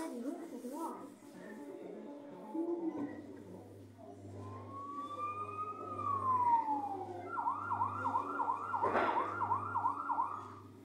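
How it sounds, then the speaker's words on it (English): A kiddie-ride fire truck's toy siren wails, rising and falling, then switches to a rapid repeating whoop, with a low rhythmic hum and people talking underneath. "you got the siren sounds it's too loud"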